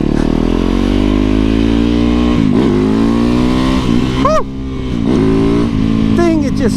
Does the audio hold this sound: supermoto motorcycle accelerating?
yes